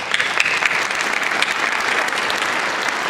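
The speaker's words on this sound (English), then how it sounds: "just to give you a quick round of applause" An audience at a science center conference breaks into loud, continuous applause, a dense crowd of hands clapping without pause and with no talking over it.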